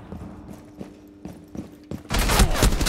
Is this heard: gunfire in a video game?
yes